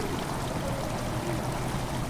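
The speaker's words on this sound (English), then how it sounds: "although the water noise is kind of loud" Steady, loud rush of flowing water filling a flooded cistern in the horror game Amnesia: The Dark Descent, a continuous broadband wash that runs unbroken throughout with no voices.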